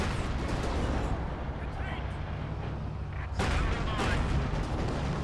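A grenade bursts amid rolling gunfire in a Company of Heroes 2 battle, with heavy booming blasts and dense crackling shots, loud and continuous, and a second sharp explosion near the end, all beneath a commentator talking.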